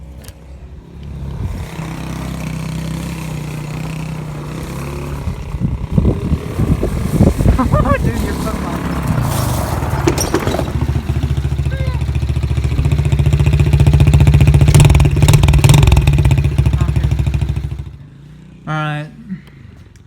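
A small quad bike engine revs close by, its note rising and holding loud before cutting off, while a person speaks briefly over it.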